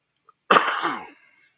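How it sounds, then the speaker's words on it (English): One explosive cough, close and abrupt, with a rough, breathy tail that fades within about half a second. "Excuse me for the cough"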